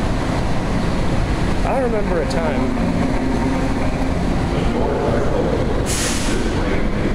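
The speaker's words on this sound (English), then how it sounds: "And here's the train, still open after it says doors are closing." An automated people-mover train at the Denver International Airport concourse station sits with doors open, a steady low rumble of the car and station filling the background while someone talks over it and a brief hiss rises near the end.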